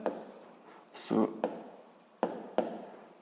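Chalk or marker strokes on a board during a seventh-grade physics lesson, several short scratchy bursts and one longer scrawl, close and clear while a teacher talks between them.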